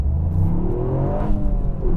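A Toyota GR Yaris, Honda Civic Type R or Mercedes-AMG A45 S engine revs loudly and steadily at close range, its tone climbing and sweeping upward during a hot hatch brake test.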